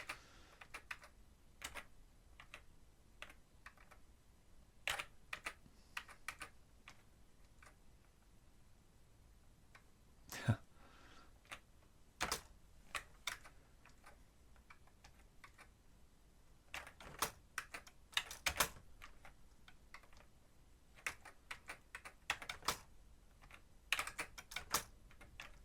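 Keys on an Atari ST computer keyboard are struck in scattered bursts and single taps, quiet and close, separated by short pauses, with no talking.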